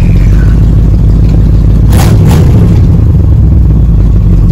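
A car engine fitted with a blow-through two-barrel carburetor idles loud and close, a steady, dense rumble throughout with a brief burst of rougher noise near the middle.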